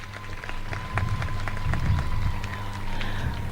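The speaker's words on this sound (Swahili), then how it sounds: "Tuwape makofi tafadhali" A large crowd at the KDF Day 2022 celebrations in Kenya breaks into applause, a moderate, distant-sounding patter of clapping lasting a few seconds over a low steady background hum.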